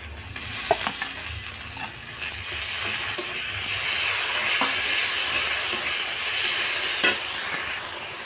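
Onions fried until reddish with spices added in a pan for a homemade burger filling, giving a steady close sizzle with occasional stirring clicks and scrapes, no voices.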